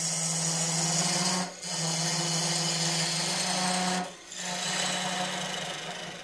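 A wooden long-stem goblet is hollowed on a woodturning lathe: a steady, fairly quiet scraping whir of the tool cutting the spinning wood, broken by two brief pauses as the tool lifts off.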